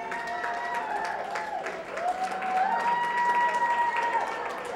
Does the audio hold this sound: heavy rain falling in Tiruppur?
no